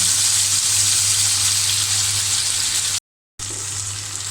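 Two tilapia fish frying together in a wok of hot oil, a loud dense continuous sizzle close by, cut by a brief gap of silence before the hiss resumes.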